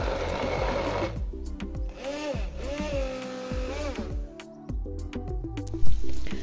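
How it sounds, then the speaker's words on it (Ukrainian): A kitchen blender chops porcini mushrooms for risotto: a close motor whirs in short bursts, its pitch rising and sagging as the load shifts, with brief pauses between pulses. "решту подрібнюємо у блендері"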